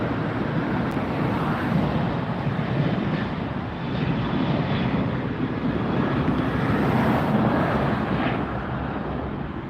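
Sun Country airliner passing at LAX, a loud, steady jet engine roar that holds close and strong throughout, swelling slightly near the end with broadband rush and wind.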